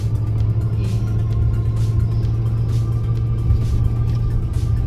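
A 1992 Ford Mustang GT heard from inside while driving: a steady, loud low engine rumble and road drone throughout, with faint higher clicks and no talking.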